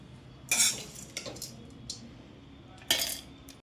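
Cooled tempering for a coconut chutney is tipped from a utensil into a mixer jar, heard as two sharp metallic clanks and scrapes with a few lighter taps between them. The sounds are close and there is no talking.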